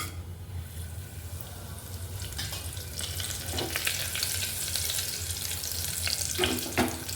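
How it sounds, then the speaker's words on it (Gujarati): Spices tempered in hot oil for toor dal khichdi crackle and sizzle softly, swelling into sharper spatters toward the end, with a faint low hum beneath. "હવે એમાં વઘાર નાખી દઈએ."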